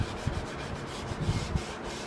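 Light hand sanding along the grain of a wooden M1 Garand rifle stock, a soft, steady rubbing rasp with faint repeated strokes, close and quiet with no talk.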